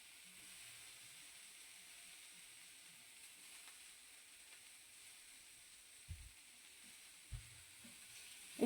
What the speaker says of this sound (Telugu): వంకాయలు వేసుకొని వేపుకోవాలండి అది.